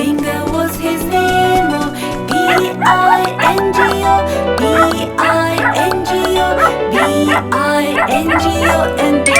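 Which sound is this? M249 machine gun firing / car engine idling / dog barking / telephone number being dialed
dog barking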